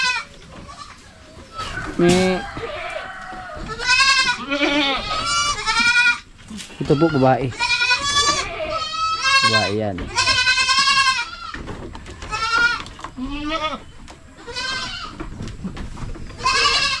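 Young goats on a farm bleat over and over, shrill and near, in a busy overlapping chorus while a person talks among them.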